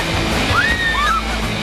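Water sloshing and splashing onto riders aboard an amusement park water ride, a loud steady wash of spray and churning water with a brief whistling tone in the middle.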